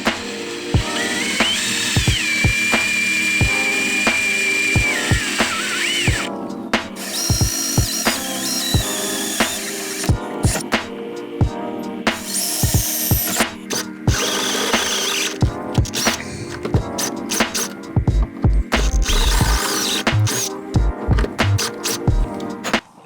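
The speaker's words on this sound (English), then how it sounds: "we're gonna go ahead and drill those holes out again" A power drill boring holes for car mirror bolts on an AE92 Corolla, a loud whining motor revving up and down in repeated bursts with clicks and metallic knocks between runs, close by.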